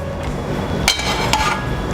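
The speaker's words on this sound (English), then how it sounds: "put the sizzler plate on the gas" A metal sizzler plate clanks down twice onto a gas stove, two sharp ringing knocks over a low steady background hum.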